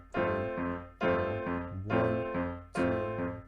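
Chords on piano, struck in four evenly spaced groups with notes held between them, slow and clear, played alone at a moderate level.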